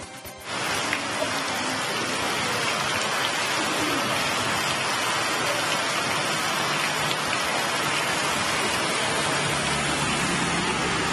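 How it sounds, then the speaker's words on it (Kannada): Heavy, continuous rain pours down on a waterlogged road with a dense, steady hiss and patter on surfaces, loud and unbroken throughout. "ನಿರಂತರವಾಗಿ ಸುರಿತಾ ಇರುವಂತಹ ಮಳೆಯಿಂದಾಗಿ ರಸ್ತೆ ತುಂಬೆಲ್ಲ ನೀರು ತುಂಬಿಕೊಂಡಿದ್ದು"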